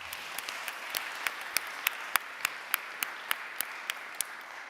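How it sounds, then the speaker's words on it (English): Audience at a full council meeting claps in a steady round of applause, with sharper individual claps standing out near the microphone throughout, no voices over it. "Can we have another round of applause, please?"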